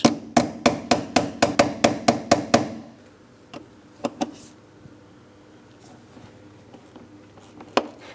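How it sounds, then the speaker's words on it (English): A hammer taps a Torx socket onto rusted bolts on a 2003-2007 Cadillac CTS 3.6L V6 in a quick run of about ten sharp, evenly spaced metallic strikes, followed by quieter scattered clinks and knocks close by. "Since I do have rust on my bolts, I'm just tapping this socket into place."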